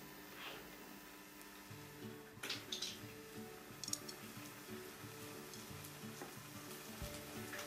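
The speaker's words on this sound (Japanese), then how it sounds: "フライパンで刻んだネギを炒めます。" Chopped green onions stir-fry in a frying pan for Japanese ramen, a steady close sizzle with scraping stirs and a few sharp clinks of the utensil against the pan, no voices.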